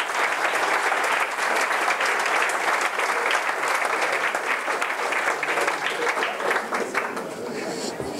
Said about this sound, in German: Und einen Applaus.